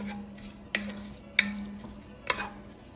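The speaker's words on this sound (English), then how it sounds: "So I'm going to go ahead and start stirring" Onions stirred in olive oil in a pan for spaghetti sauce, three distinct spoon-against-pan scrapes and clinks over a quiet low sizzle and a steady hum, close and fairly soft, with no talk.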